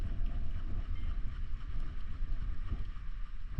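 Steady wind gusting across an open-water fishing spot on Harsens Island, a low continuous rumble buffeting the microphone throughout with no talk.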